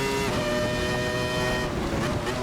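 Race car engine in the Assetto Corsa racing game on a wet track, droning steadily with layered harmonic tones as power is applied, with a voice talking over it throughout.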